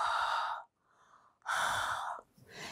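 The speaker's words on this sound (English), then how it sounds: "We breathe on it." Two long, deliberate breaths exhaled onto a clay bowl to moisten its surface before laying gold leaf in icon gilding, each a soft, close, breathy rush separated by a quiet pause, with no talking.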